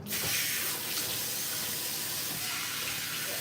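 Cold water runs steadily from a kitchen tap into a sink, a constant close hiss and splash that starts abruptly and continues without pause, with no talking.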